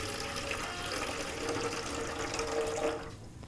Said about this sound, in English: we're going to scale 345 grams of water into a container